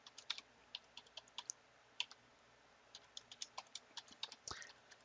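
Quick bursts of keystrokes on a computer keyboard as a password is entered during Windows Server 2016 setup, close and crisp, in uneven clusters with short pauses, no talking.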